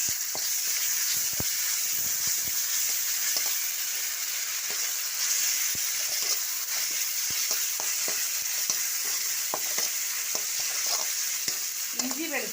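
Ginger-garlic paste sautés in a pan for a homestyle roasted-coconut mutton curry, giving a dense, continuous close sizzle with frequent spoon scrapes and taps against the pan. It runs steadily the whole time with no speech.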